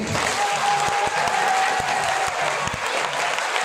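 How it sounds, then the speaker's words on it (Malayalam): One team of an audience at an Onam gathering claps together in a dense, steady burst of applause lasting several seconds, loud and close, with no voices over it. "ശരി, ബി ടീം കൈയടിച്ചേ."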